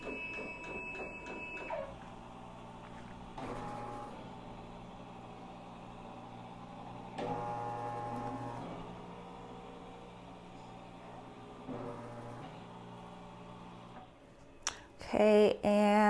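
An embroidery machine running an area trace on a T-shirt, heard as a low motor hum with a series of brief sliding whirs as the hoop moves, ending in a few louder clicks and beeps close by.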